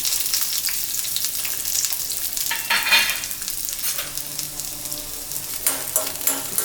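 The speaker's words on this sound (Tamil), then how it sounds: "வெங்காயம் போட்டுக்கலாங்க" Onions frying in hot oil in a pan, a continuous crackling sizzle close by with occasional stirring scrapes and brief louder spits.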